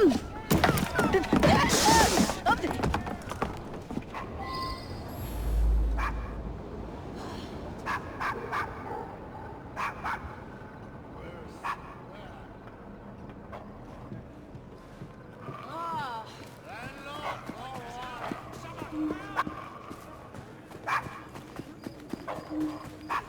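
A dog barks in Assassin's Creed Syndicate, set in a Victorian London street, with several sharp barks among street bustle, hoofbeats and game ambience while a character speaks.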